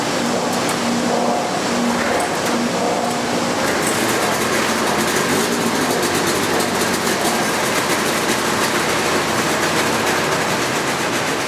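A car engine runs on a Superflow dyno while warming up, a loud, continuous roar that holds steady with little change in pitch and no talk.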